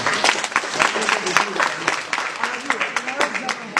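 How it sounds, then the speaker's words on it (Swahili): Applause for a teacher during a project presentation at a vocational training centre: dense, steady clapping from a crowd lasting the whole moment, with voices mixed in beneath it. "makofi kwa mwalimu"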